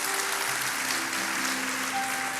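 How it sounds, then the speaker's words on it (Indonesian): A church congregation claps together in a steady, broad wash of applause that holds evenly for a couple of seconds. "Kasih tepuk tangan untuk mereka yang melayani hari ini."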